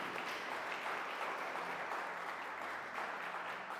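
Steady, faint applause from a church congregation during a sermon, a continuous even wash of clapping with no voices over it.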